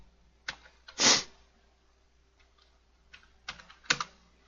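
Computer keyboard typing during CAD-to-3ds Max software work: a few sharp, separate key taps and one heavier keypress, close and clear in a quiet room, with no talking.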